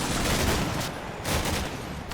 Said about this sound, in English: the Ukrainians have put heavy fire on this building and caused one casualty